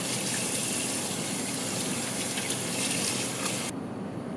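Tap water gushes steadily over salted fish being rinsed for grilling, a constant splashing stream in a sink for nearly four seconds before the flow cuts off abruptly.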